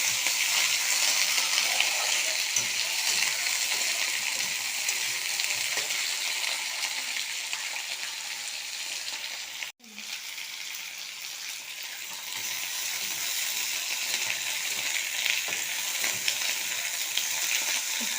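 Potato, spring onion and beans fry in a pan with a steady, close sizzle and crackle throughout, broken by one brief pause midway, with no voices.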